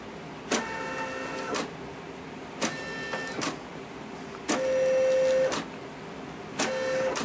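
A Brother SE400 embroidery machine stitching around a knit beanie, its needle running in bursts of rapid mechanical whirring and clatter separated by short pauses, close and fairly loud with no voices.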